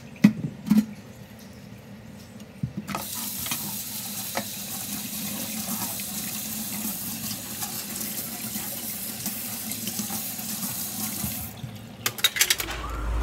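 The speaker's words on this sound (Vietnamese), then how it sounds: "Con đi rửa chén cho ba đi." Tap water runs steadily into a sink while dishes are washed at home, a continuous splashing wash with a few clinks near the start and end.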